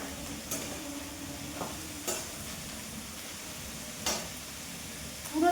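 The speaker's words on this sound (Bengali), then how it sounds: "এই পেঁয়াজ করিতে, পট পট করে ফাটে আর চতুর্দিকে তেলগুলো ছড়ায়" Onions frying in oil in a cooking pot, a soft steady sizzle with faint stirring scrapes and a few sharp pops or spatters spaced across the stretch, closer crackle near the end.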